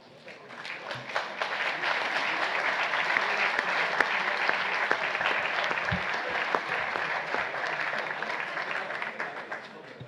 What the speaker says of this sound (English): I will assume that applause meant there was a motion for acclamation.